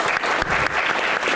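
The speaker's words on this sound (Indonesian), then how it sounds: "Kita berikan tepuk tangan untuk Shirley." Audience applause for a contestant named Shirley at a village head candidate show, a dense steady patter of many hands filling the whole stretch at moderate loudness.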